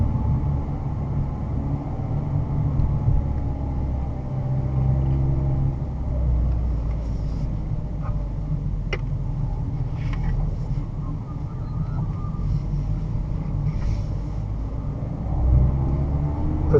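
A car driven at pace around the Broadford race track gives a steady, loud engine drone and road rumble heard from inside the cabin, with faint wind buffeting and no talking.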